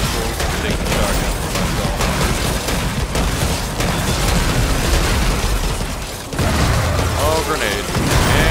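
Grenade explosions go off in the zombie defense game Yet Another Zombie Defense HD, dense booming bursts layered over constant gunfire and game noise, with a heavier blast near the end while someone talks throughout.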